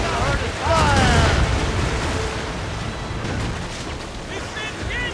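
Cannon fire booms across the water during a naval battle in Assassin's Creed Rogue, a heavy rumbling blast under shouted crew orders and sea wash, with voices calling out over the din.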